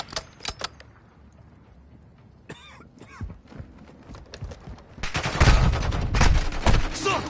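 Video game gunfire: a few scattered sharp shots early on, then a dense, loud burst of rapid firing close by that fills the last couple of seconds.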